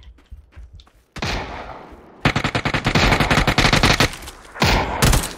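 Gunfire in PUBG, heard as a few separate loud shots followed by a dense, rapid run of reports and then another short burst, all close and sharp with no talk over them.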